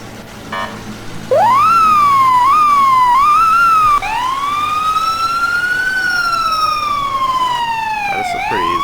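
Ambulance siren in the emergency-response game EmergeNYC, switching on with a sharp rising wail, then sweeping through yelp and long wailing cycles, loud and close over a low engine hum.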